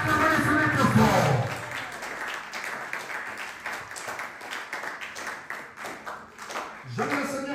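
A church congregation applauds and cheers for Jesus, with a loud burst of clapping and voices that fades into lighter scattered applause, then swells again at the end.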